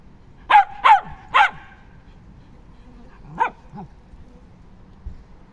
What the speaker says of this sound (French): Laisse-le aboyer.